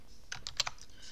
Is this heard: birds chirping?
no